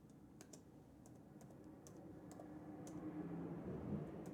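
Keys clatter on a computer keyboard in irregular bursts of quick taps, fairly faint, over a steady wash of street traffic noise outdoors.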